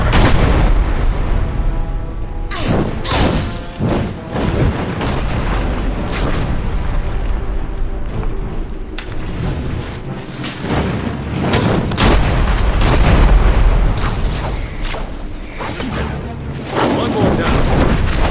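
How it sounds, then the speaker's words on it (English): Cannons firing in the Dungeon Siege 3 video game: repeated loud booming blasts burst every couple of seconds over a thick, continuous din of battle noise and music, with a voice occasionally audible. "Now those cannons are stirring up the spiders."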